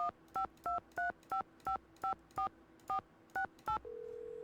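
Touch-tone telephone keypad dialing in a Nancy Drew mystery game: about a dozen evenly spaced DTMF beeps in a quick run, then a steady tone. Clear and close, no talking.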